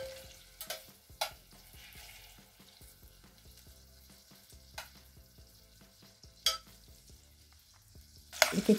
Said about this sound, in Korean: 이렇게 지글지글 끓죠